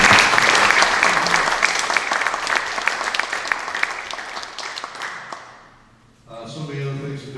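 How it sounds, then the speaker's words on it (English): A Rotary meeting audience applauds guest David Ryan. Loud, dense clapping rolls on for several seconds, fades out to near silence, and then a voice begins talking. "A round of applause for David Ryan."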